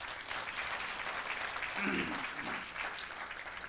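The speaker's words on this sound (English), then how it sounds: "Let's give each other a big round of applause." Students at a university orientation applaud in a steady, dense wash of clapping that fills the whole stretch, with a voice briefly audible partway through.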